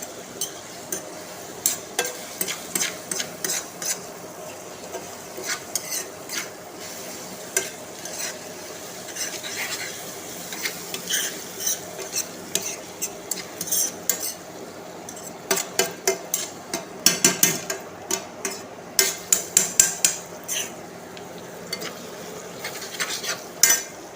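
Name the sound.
stirring and sautéing ingredients in oil in a pan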